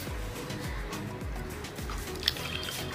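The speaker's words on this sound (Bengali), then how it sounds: "তাহলে প্রথমে আমি গরম পানি দিই" Warm water is poured into a bowl for homemade pizza dough, a soft gurgling trickle with repeated bubbly glugs, close but quiet, with no talking.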